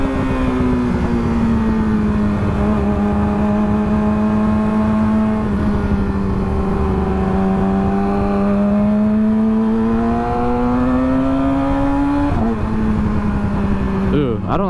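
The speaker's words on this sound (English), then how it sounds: "I don't like letting off the throttle as soon as I shift up. I feel like that messes with the quick shifter." Engine revving under throttle on a quick-shifter vehicle, a strong steady drone with rising pitch and a sharp gear change near the end, loud and close, with talking over it.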